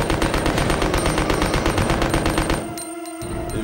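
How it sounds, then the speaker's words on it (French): Machine gun fire in Resident Evil 2 on GameCube, a loud rapid continuous burst of shots lasting about two and a half seconds, then cutting off into a brief quieter tail with no talk. "mais quand on sait qu'on a une mitraillette, voilà, on tire et normalement ça tombe."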